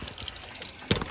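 Plain water rushes through the coolant system of a Buick Grand National during a flush, a faint continuous trickling flow with one brief louder splash near the end.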